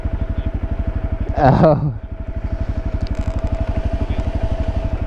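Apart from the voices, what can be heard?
XT motorcycle engine during wheelie practice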